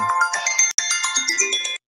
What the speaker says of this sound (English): somebody didn't mute their phone.